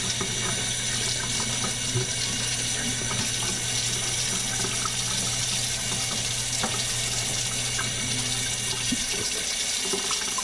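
Tap water runs steadily into a sink while dyed RC car parts are rinsed, a continuous close splashing rush with slight variations and no pauses.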